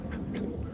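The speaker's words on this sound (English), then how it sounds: "I hear some ducks." Ducks quack near a river along a mountain trail, giving a few brief, moderately faint calls over steady outdoor background noise.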